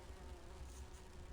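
Insect-like buzzing from a swarm of bees in the adventure game Grim Fandango Remastered, a steady low drone that holds without a break over a faint background hum.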